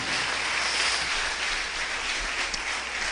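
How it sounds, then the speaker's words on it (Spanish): Church congregation at a Sunday service applauding for the Lord, a steady dense wash of clapping, moderately loud and even throughout with no talk over it. "Dele otro aplauso al Señor."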